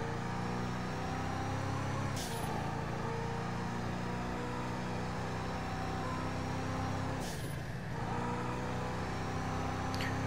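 An Albany Roosevelt in GTA V drives in first person, its steady engine drone filling the scene with brief hissing bursts between.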